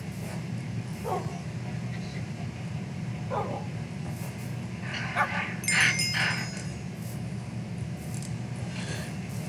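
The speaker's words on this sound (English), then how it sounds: "The amount of dogs is kind of ridiculous." Dogs in the video game Minecraft give a few faint, scattered barks and yips against a steady background drone, with a slightly louder cluster near the middle and no talking.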